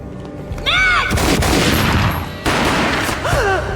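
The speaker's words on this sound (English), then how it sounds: "A gunshot boomed and she fell down in slow motion." Gunfire in the video game Max Payne, a sharp gunshot boom followed by a sustained loud burst of shooting and ringing reverberation, with sweeping game sound effects at the start and end.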